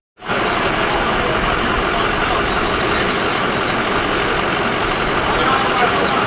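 A white truck idles close by, its engine a steady, loud, unbroken rumble from start to finish.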